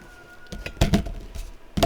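A rooster crows out back, caught from indoors as a short, fairly loud burst with a couple of harsh pulses and some background thumps.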